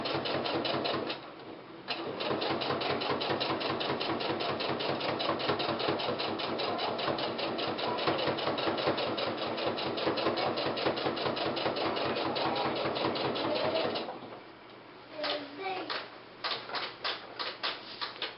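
A sewing machine runs steadily for about fourteen seconds, top stitching close to the fabric edge with a fast, even mechanical ticking, then stops and resumes in a few short, slower bursts of stitches.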